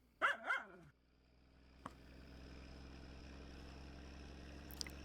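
Two quick dog barks from a dog in the My Summer Car game open the clip, close and clear, followed by a steady low engine-like hum that runs throughout, with a faint click in the middle.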